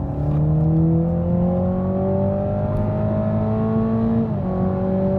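A Toyota GR Supra with the 4-cylinder engine drives on a racetrack, its steady engine drone climbing smoothly in pitch under acceleration, then briefly dipping on a gear change before rising again, heard from inside the car without talk.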